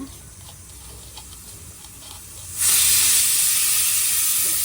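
A pressure cooker cooking arbi starts venting: a quiet kitchen background, then an abrupt, loud, steady steam hiss that holds at full strength, with no talking.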